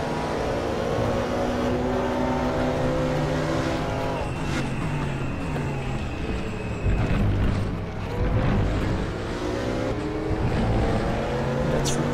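GT3 race cars, a Corvette and a BMW, running side by side at Circuit Zolder in the RaceRoom racing game, steady loud engine drone with gear-change shifts throughout.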